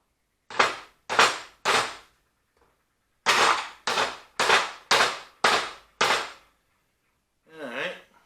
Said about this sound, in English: I got the plastic hammer also, so that we're a little bit lighter on things.